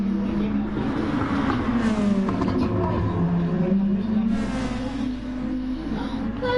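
A race car in a Gr2 endurance racing game at Alsace Village revs and accelerates, its engine note sweeping up and down as other cars pass, with someone talking over the steady roar.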